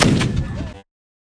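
A single loud, close boom from a Civil War reenactment mortar fired at the Gettysburg anniversary demonstration, a heavy blast that cuts off abruptly after under a second, followed by silence.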